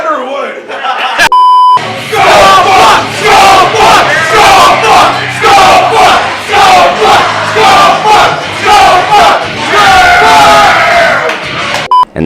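A packed backyard show audience roars with sustained cheering, whoops and yelling, loud and close, with one shrill beep-like tone near the start and the crowd noise dense throughout.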